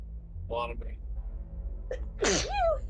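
A single sharp human sneeze, with a short breathy intake before the loud burst, heard close up amid a tabletop role-playing game session.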